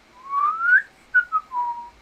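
One person whistles a short tune nearby while working on a 3D Soundwave Transformers model: a long rising note, two quick chirps, then a falling held note, clear and alone.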